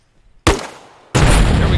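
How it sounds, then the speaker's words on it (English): Two loud, close unsuppressed weapon shots in ARMA Reforger, each a sharp crack followed by a ringing tail, the second heavier and sustained. "That's an unsuppressed weapon behind us."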